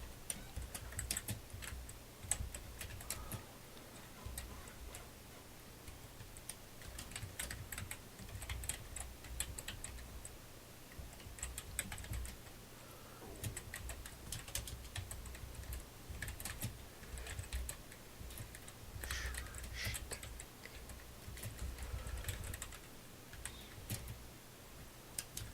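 Computer keyboard typing in a home church-tech livestream setup, a steady run of fairly quiet, rapid key taps lasting throughout with a constant low hum beneath and no talking.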